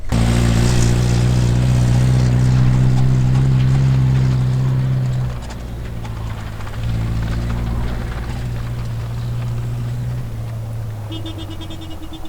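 A van driving flat out through desert sand gives a loud, continuous engine roar that drops briefly midway, then picks up again and keeps droning steadily.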